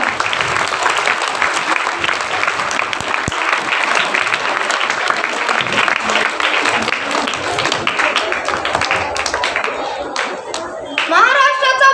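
School audience clapping for the Blue House choral recitation, a dense sustained round of applause that fades slightly near the end, where a voice and other voices come through.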